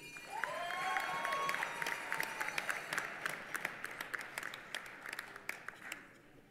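Sustained applause from a commencement audience honoring graduating seniors at a winter undergraduate ceremony, a dense roar of many hands with individual sharp claps standing out, steady before fading at the end.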